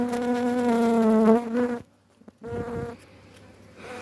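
Honeybees buzz loudly around an open hive in hot-climate Adana. A close, tonal drone wavers and drops out briefly midway, then returns more faintly.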